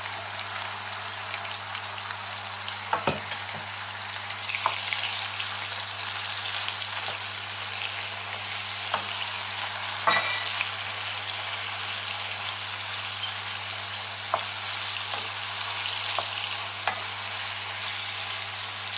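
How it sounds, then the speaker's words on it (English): Diced aubergines frying in a quarter cup of hot oil in a pan over medium heat, a steady close sizzle and crackle with occasional sharper pops and stirring clicks, no talking. "let those diced aubergines have a good fry for about 5 minutes"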